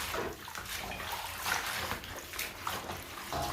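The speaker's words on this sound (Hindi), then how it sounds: "पानी को बदलते हुए 3 से 4 बार हम साग को अच्छे से धुल लेंगे।" Two bunches of sarson saag (mustard greens) being washed by hand in a basin of water, with steady sloshing and trickling close by, no voices.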